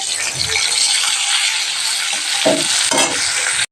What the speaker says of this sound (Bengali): দেখো অল্প তিতা করলা ছিল, এটা ভাজা করে নিচ্ছি।